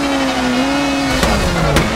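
A rally car in the WRC 4 racing game swings through a hairpin on the handbrake, its steady engine drone dipping in pitch as two brief scrubbing bursts of tire noise cut through near the end.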